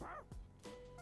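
Koromaru, the dog in the video game Persona 3, lets out a couple of short, quiet barks and yips in quick succession.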